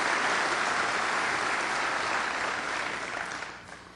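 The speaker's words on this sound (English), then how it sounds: "a round of applause for them" An audience at a mayor's State of the City speech in Long Beach gives a round of applause, steady and full, fading slightly toward the end.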